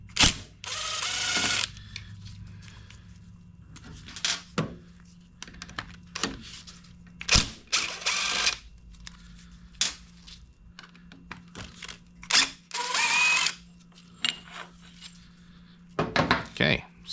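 A power driver backs screws out of the seal plate on a Serveta Performer, with short bursts of whirring and ratcheting separated by pauses, handling clicks and faint talk throughout.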